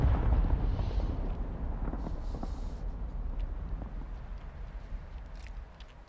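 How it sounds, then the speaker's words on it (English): Precision airstrikes explode in the video game Warzone 2 as deep, rolling booms. The rumble is heaviest at first, then tails off into a distant, windy roar. "Precision airstrikes going off."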